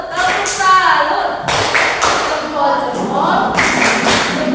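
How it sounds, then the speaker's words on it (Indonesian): A class of Catholic religion students in grade VII at a junior high school perform the rhythmic 'tepuk salut' clap, with sharp, patterned bursts of hand claps and thumps mixed with their chanting voices. "Kita beri sekali lagi tepuk salut."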